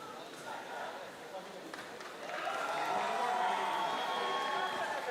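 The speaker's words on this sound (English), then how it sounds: "The fans cheering." Football fans cheering at an Arunachal League match, a broad crowd roar that swells louder midway and holds steady, with indistinct voices mixed in.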